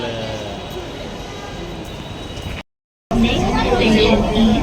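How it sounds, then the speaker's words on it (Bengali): A metro train rumbles along the track in a steady, close roar. The sound cuts out briefly, then returns louder, with people talking over it. "একটা মেট্রো"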